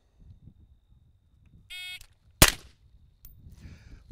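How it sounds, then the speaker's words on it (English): A shot timer gives a short electronic beep, and a moment later a single loud rifle shot cracks out during a high-ready drill on a firing range. Faint noise follows. "At the buzzer, you fire one shot at the designated high ready target."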